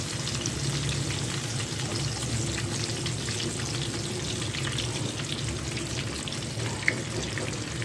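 Fish pieces frying in a pan over a medium flame make a dense, continuous sizzle and crackle that stays constant and close, with no talking.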